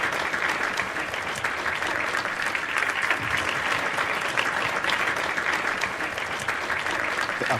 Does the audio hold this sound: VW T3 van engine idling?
no